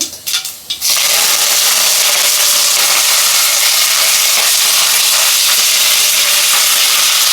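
Mustard seeds and curry leaves crackle and sizzle in about four spoons of hot oil for coconut rice, a loud steady hiss that rushes up after a brief clattering start and holds to the end without talk.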